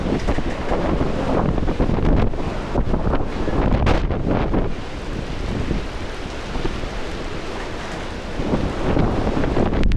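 Strong, gusty typhoon wind roars continuously, buffeting the microphone with loud rumbling surges and rustling throughout.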